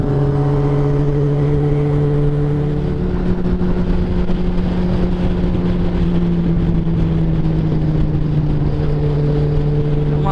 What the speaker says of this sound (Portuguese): Vamos acelerar um pouquinho aqui